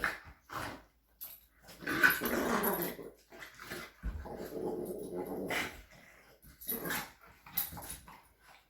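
Dogs nearby growling low and letting out whimpers and small yips in short, uneven bursts.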